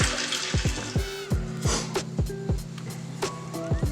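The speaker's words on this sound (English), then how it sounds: "Let's pour some of our wine." Wine glugging from a bottle into a glass at a dinner table, a rapid series of rhythmic gurgles rising in pitch as the glass fills, close and clear with no talking.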